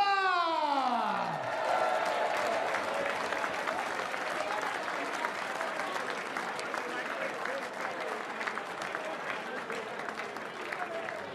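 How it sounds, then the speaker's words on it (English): A darts crowd at the WDF Lakeside World Championship final applauding and cheering as the finalist leaves the stage, sustained clapping with whoops, following a rising whistle-like tone at the start, with speech faintly mixed in. "a massive round of applause for our finalist as he leaves the stage, Chris Landman!"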